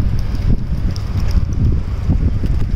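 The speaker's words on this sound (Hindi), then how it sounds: "ये हवा की आवाज़ आ रही होगी," Strong wind blowing outdoors at night outside a gurdwara in Canada, a steady loud buffeting rumble across the microphone with gusty surges.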